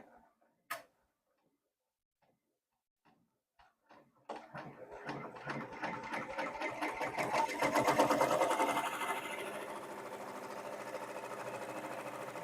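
An embroidery machine stitches batik fabric for a pumpkin mug rug, opening with a few scattered clicks, then settling into a loud, rapid, even mechanical ticking that runs without a break and builds slightly in volume.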